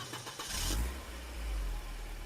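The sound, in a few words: rental car driving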